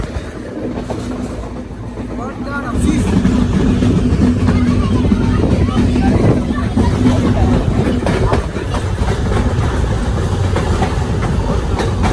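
A passenger train rumbling along the rails with a steady clatter and broadband roar, heard close and loud from on board, continuing throughout.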